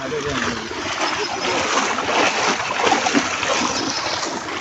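Water flows and splashes steadily through a farm channel, loud and close, with someone talking over it.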